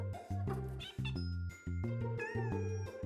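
A cartoon kitten stuck up a tree meows in a rapid string of high, squeaky cries that follow one another closely and stay close and loud throughout.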